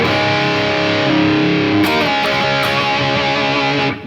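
Slow distorted electric guitar playing a riff, thick sustained chords ringing out loudly with a few sharp pick accents, alone without talk, cutting off at the end.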